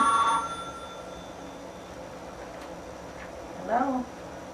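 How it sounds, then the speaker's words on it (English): An old telephone rings faintly in a quiet room during a recorded interview, with one brief tone at the start and another trill near the end over a soft hiss. "this is the phone ringing."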